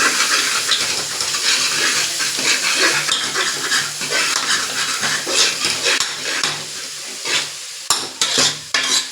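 Mutton curry with garlic paste sizzles and fries in a pan while being stirred, scraping and clattering in uneven strokes over a continuous close sizzle.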